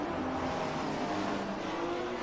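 Several GT4 race cars at Silverstone in a racing video game drone steadily together, engine tones layered and sustained without pause, close and loud throughout.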